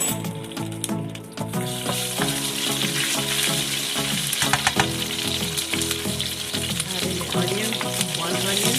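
Whole cumin and mustard seeds sizzling in hot oil in a chicken curry pot, a loud continuous frying crackle with scattered popping and stirring scrapes, close and without talk.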